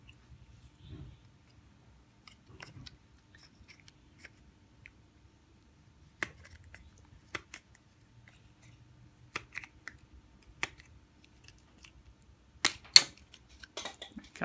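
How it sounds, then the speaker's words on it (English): Sparse, sharp snips of scissors cutting, a few isolated clicks spread out, then a quicker cluster near the end, in an otherwise quiet room. "Cut that one off, and you continue on around here."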